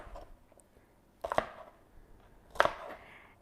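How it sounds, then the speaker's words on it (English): A knife chops fresh asparagus spears into roughly three-centimetre pieces on a board, giving two distinct, close, crisp strikes a little over a second apart with quiet room sound in between. "so there's my asparagus chopped"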